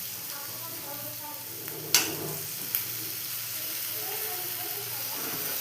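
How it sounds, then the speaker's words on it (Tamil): Tomatoes go into sautéed onions in a pan for paneer matar, a steady close sizzle broken by a sharp scrape or clatter near the middle and a lighter knock soon after. "வெங்காயம் வதங்கின உடனே தக்காளி சேர்க்குறேன்"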